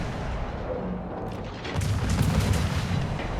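Naval gunfire in a warship video game, deep booming blasts and rumbling explosions layered over a constant low roar, growing heavier in the second half, no talking.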